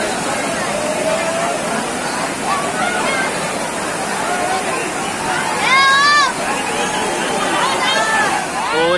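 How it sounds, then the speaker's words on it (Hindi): A tall waterfall at Lonavala hill station pours from high above, a loud continuous rushing roar close by, with people talking and calling over it throughout. "बहुत ऊपर से झरना आ रहा है"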